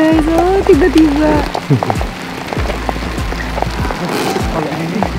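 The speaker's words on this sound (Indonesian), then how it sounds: "Hujan. Hujan guys. Oh, tiba-tiba." Sudden rain patters steadily on a mountain hike, mixed with people talking excitedly and footsteps shuffling close by.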